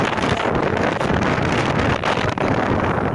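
Strong wind at Balanacan View Deck roars and buffets the microphone steadily throughout, a loud, continuous rushing blast with no pauses.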